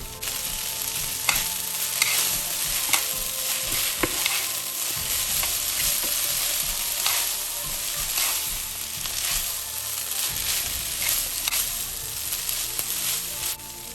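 Bean sprouts stir-fried with chow mein and Chinese sausage in a hot pan, a steady close sizzle broken by frequent scraping stirs and clanks throughout, with no talking.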